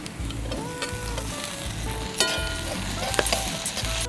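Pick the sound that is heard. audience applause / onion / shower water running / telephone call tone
onion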